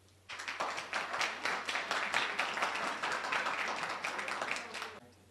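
An audience at a 2018 congressional candidate forum applauds a candidate. The dense, even clapping starts suddenly, holds steady for about five seconds, and then stops.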